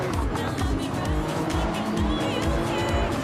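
A Mazda race car in a Tokyo expressway racing video game, its engine roaring loudly and continuously while tires squeal through the corners.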